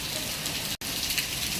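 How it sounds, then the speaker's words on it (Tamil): Heavy rain pours steadily in Kodambakkam, Chennai, a dense loud hiss of drops drumming on surfaces, broken by a split-second cut midway. "கோடம்பாக்கத்தில் சரியான மழை பெய்யுது."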